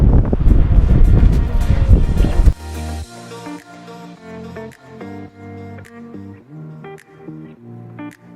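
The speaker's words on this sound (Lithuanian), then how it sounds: "Labai vėjuota" Strong wind buffets the microphone on the Tasmanian coast in a loud, rough roar for about two and a half seconds before music takes over.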